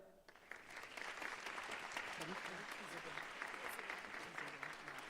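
Steady, dense applause from an audience at a school leadership summit greets a student leader, sustained clapping at even volume throughout with no clear break.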